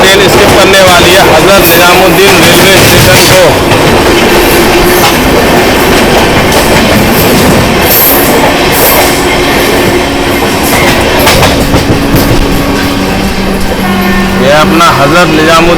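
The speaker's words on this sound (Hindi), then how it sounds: "जब अपनी ट्रेन हाई स्पीड करती है" The Mumbai Rajdhani Express, train 12952, runs at high speed near Hazrat Nizamuddin station, with a loud, continuous roar of wheels and rushing air, steady clickety-clack and occasional squeals, heard from on board.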